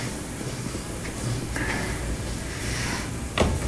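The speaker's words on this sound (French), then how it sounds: "La porte, elle s'est fermée à ma tronche en fait." A door slams shut in a spooky Roblox hotel game, a short thud near the end over a continuous ambient hum, with a fainter knock earlier.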